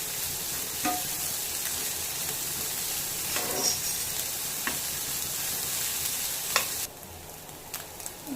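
Vegetables for chicken fried rice sizzle steadily in a pan, with occasional scraping stirs of a spoon breaking through the constant frying hiss.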